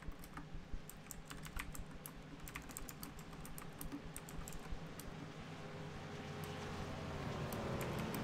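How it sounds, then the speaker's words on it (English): Computer keyboard typing in bursts of quick clicks over a steady background hum, close and fairly quiet, with no talking. "Sorry if you hear my keyboard typing."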